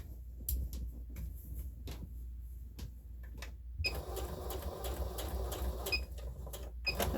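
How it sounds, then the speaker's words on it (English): A sewing machine stitches down the side of a child's tote bag, its needle chattering in a steady mechanical run that starts sparse and then settles into a continuous close-up whir with no talking. "now I'm gonna go ahead and sew down the other side"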